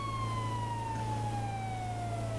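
Police car siren from a role-play video game, a steady wailing tone sliding slowly downward, loud and continuous throughout with no talking over it.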